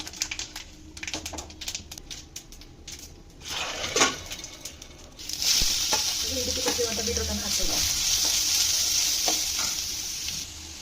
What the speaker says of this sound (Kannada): ಸ್ವಲ್ಪ ಒಗ್ಗರಣೆಯನ್ನು ನಾನು ತಗೊಂಡು ಸಾರಿ ಮಾಡ್ತಾ ಇದ್ದೇನೆ